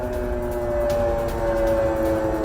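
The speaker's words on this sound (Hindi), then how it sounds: "कीव में जिस तरीके से सायरन बज रहे हैं" Air raid sirens wail across Kyiv during an alert, a steady sustained tone held over a low rumbling background, loud and continuous with no voices.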